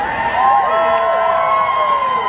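A large crowd of Elvis fans at Graceland in Memphis, gathered for his 90th birthday celebration, cheers and whoops loudly and steadily, with shouts rising over a continuous roar.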